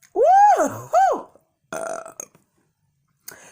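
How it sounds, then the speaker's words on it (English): A person lets out several loud, drawn-out burps close to the mic, two long ones back to back followed by shorter, rougher belches after pauses, with no talking. "Some healthy burps there too."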